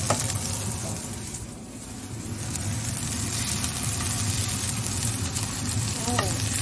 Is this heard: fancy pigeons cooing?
no